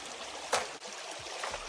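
River water flows steadily at a gold-panning spot, a soft continuous rush with a few brief splashy swells, fairly quiet and with no voices.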